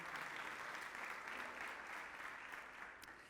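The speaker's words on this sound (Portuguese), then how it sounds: "Vamos aplaudir o Senhor." A church congregation applauds continuously during a Sunday service. The even, dense clapping stays loud from start to finish and tapers off slightly at the end.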